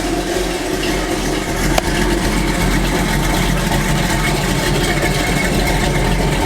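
A car engine with an Edelbrock AVS2 carburetor and a 6842 metering rod idles smoothly, a steady rumbling drone that stays constant, close and fairly loud, with one brief knock partway through and no voices.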